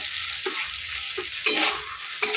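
Veg hakka noodles (chowmein) stir-fried in a hot pan over a medium gas flame, a steady loud sizzle broken by repeated scraping stirs of the spatula, with no voices.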